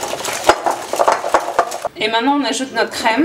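Eggs and cream being mixed in a dish for a French dessert with fruit, a spoon clinking and scraping against the bowl in quick strokes while someone talks over it, then a softer whisking swirl.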